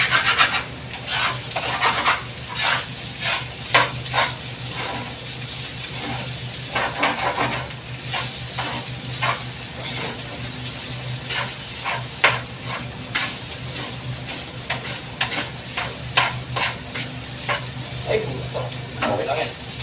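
Butter sizzles in a frying pan, a steady close hiss and crackle lasting throughout, punctuated by repeated scraping and stirring clicks of a utensil against the pan.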